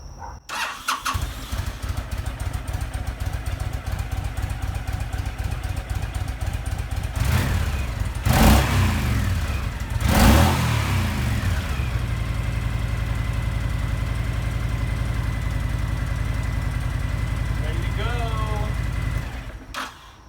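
A Honda VTX1300 motorcycle, dead for five years, cranks with a rapid chugging starter. It catches with loud revving surges around the middle, then settles into a steady, rumbling idle before cutting off, close by.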